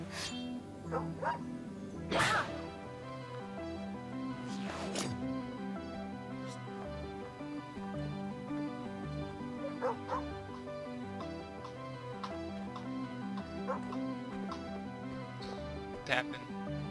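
Repeated small yips and barks from a dog in the game Sword and Sworcery, spaced irregularly over a soft musical game backdrop, with someone talking over parts of it.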